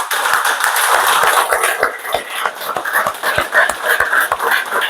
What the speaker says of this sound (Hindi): सो अपने लिए एक जोरदार ताली प्लीज